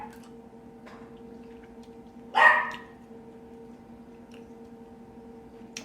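A single sharp bark from a dog indoors, brief and fairly close, cutting through a steady background hum; nobody speaks.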